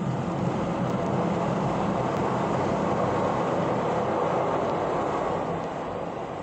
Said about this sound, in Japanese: 今ちょっと電車通ってますから